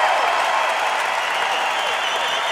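Steady, dense audience applause fills a TV studio at the close of a celebrity synchro diving show, loud and unbroken from start to finish with no voices on top.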